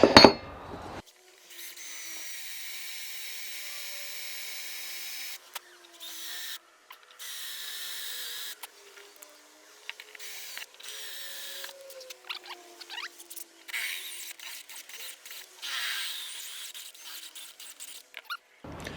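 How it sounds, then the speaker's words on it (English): A power drill whirs in a series of short bursts with gaps in between, close by and fairly quiet, without any talking. "Let's just drill the holes out."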